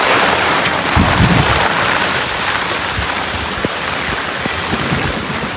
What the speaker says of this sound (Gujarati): જો વરસાદ આવે વાતાવરણ છે